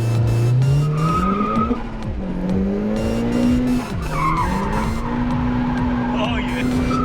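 A turbocharged or supercharged car slides around a skid pan, tires squealing in long wavering tones over a high-revving engine that bounces off the limiter, with people talking excitedly over it.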